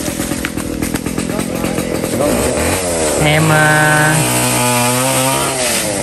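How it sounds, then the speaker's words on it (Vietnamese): A chainsaw cutting a tree nearby, a loud steady engine drone that rises in pitch as it revs and bites into the wood, with a voice speaking briefly over it. "Chỗ này ta đang cưa cây cái bắt đầu nó hơi ồn"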